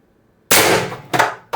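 A Pistelle X-68 HPA airsoft carbine fitted with a Reaper suppressor and running on 800 PSI high pressure air fires, one sharp close pop after silence, then two quicker muffled pops.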